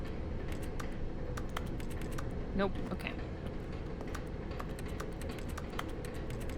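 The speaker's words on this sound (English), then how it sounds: "Why does it just sound like I'm typing anytime I click?" Keyboard typing clicks play as the mouse-click sound in the video game The Stanley Parable: Ultra Deluxe, with crisp taps scattered steadily throughout over a constant game ambience, and a voice speaking briefly midway.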